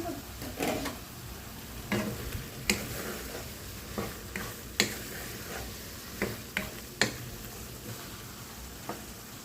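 Ingredients for Filipino valenciana sauté in a pan, a soft sizzle broken by sharp, irregular scrapes and clicks of stirring at close range.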